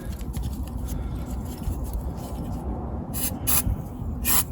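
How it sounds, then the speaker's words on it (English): Copper grease sprayed from a small aerosol can onto Renault Clio Mk3 front brake parts, a few short hissing bursts near the end after a stretch of quiet rubbing and handling noise close by. "So I've got this little spray copper grease."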